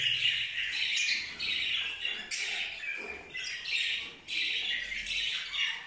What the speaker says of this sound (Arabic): هذه طيور جابونيز او الفلل